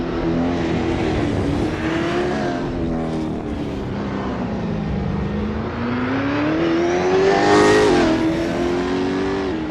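V8 Supercar engines race around Pukekohe Park in Assetto Corsa, a loud continuous roar whose pitch rises and falls as the cars accelerate and shift, swelling near the end as one draws close.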